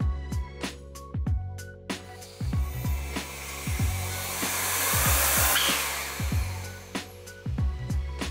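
A turbocharger spinning on a balancing machine during an automatic test, a high whirring spin-up broken by repeated sharp clicks and mechanical knocks at uneven intervals.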